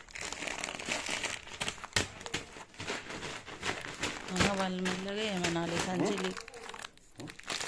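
Ordinary plastic bags crinkle and rustle while rice is packed for storage, giving irregular crackling bursts under nearby people talking.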